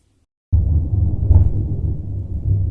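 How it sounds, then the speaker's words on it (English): Low thunder rumbling steadily during a night storm, starting abruptly after a brief silence and holding a loud, continuous roll with a slight swell partway through. "You hear that thunderstorm?"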